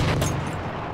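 A machine gun opening up in the trench warfare shooter Battlefield 1, a brief loud rattling burst with a heavy low boom at the start, fading into the din within a second.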